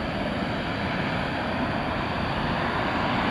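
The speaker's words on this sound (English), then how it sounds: "cargo plane, 777," An Aerologic Boeing 777 cargo plane taxis at night at Dallas/Fort Worth Airport, its jet engines making a steady, loud, broadband roar with no pauses.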